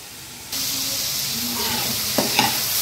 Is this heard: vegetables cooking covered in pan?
yes